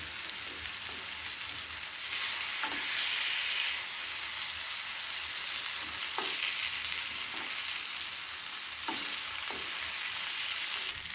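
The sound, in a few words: frying plantain slices in a pan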